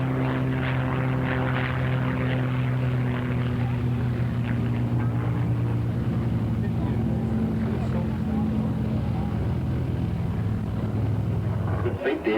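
A propeller aircraft looping and rolling at a 1983 RAAF air show at Point Cook gives a steady, loud engine drone that holds throughout, with a voice talking over it.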